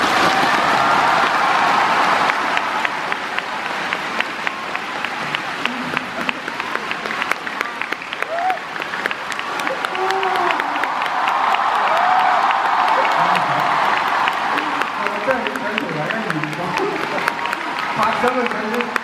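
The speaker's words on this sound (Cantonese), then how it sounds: "拍手嘅掌聲啊！" A crowd at a New Year's Eve concert in Macau keeps up dense, sustained clapping and applause, a loud, even wash of many hands with some crowd noise mixed in.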